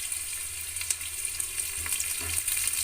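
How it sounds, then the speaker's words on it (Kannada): Green chillies fry in a hot pan with a steady, close, continuous sizzle and crackle, some faint stirring noise, and no voices. "ಚೆನ್ನಾಗಿ ಫ್ರೈ ಆಗಲಿ"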